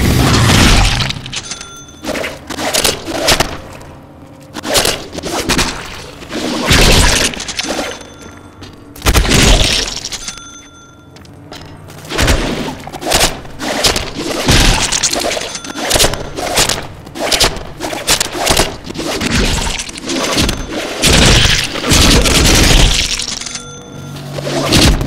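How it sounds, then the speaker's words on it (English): A rapid barrage of light and heavy melee strikes in the Deadpool video game, with punchy thuds, whacks and booming impacts. The hits come in dense clusters over a continuous action-game soundscape. "mix our light and heavy attacks together and see what happens"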